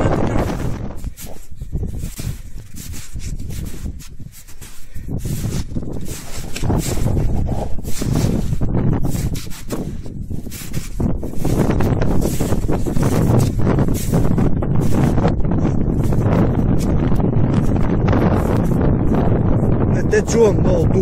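Strong wind gusting across a snowy mountain peak, Kom, buffeting the microphone in loud, rumbling bursts that swell and ease for twenty seconds and grow heavier toward the end.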